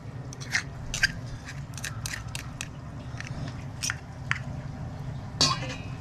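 Crunching bites into a sandy raw clam on the Oregon coast, a series of sharp gritty crunches spaced irregularly over a few seconds, close and fairly quiet above a low steady background rumble.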